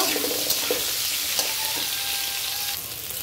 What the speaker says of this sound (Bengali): এদিকে আমি কড়াইতে জিরা ফোড়ন দিয়ে আলু আর বেগুনগুলো খুব সুন্দর করে ভেজে নিব